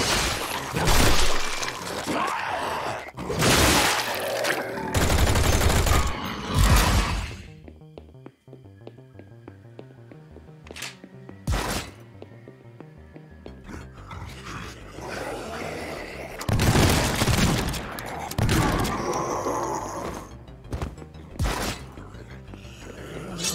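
Loud booming cannon shots from the game Project Warlock 2, fired in irregular bursts with quieter stretches of background ambience between them.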